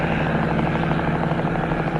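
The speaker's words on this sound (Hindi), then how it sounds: "यहाँ क्या कर रहा है आदमी का हेलीकॉप्टर?" A helicopter flies in a movie scene, a steady close rotor thrum with rhythmic chopping over a low droning hum, continuous and fairly loud.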